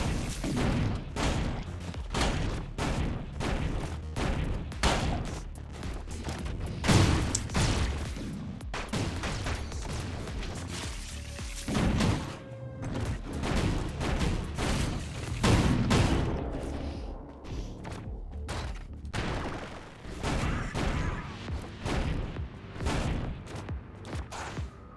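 Explosive machine gun fire in the Orbital Bullet video game: rapid strings of punchy blasts and small booms in uneven bursts, close and loud, pausing briefly between volleys.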